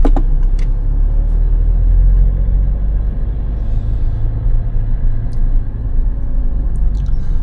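A car drives along a road in Poland, with a steady, loud, close engine and tyre rumble that holds for the whole stretch and never drops out.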